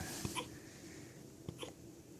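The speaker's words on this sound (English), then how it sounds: "Oh, you got hiccups." A Boerboel puppy hiccups twice, each a short, soft, close jolt, with a quiet pause between them.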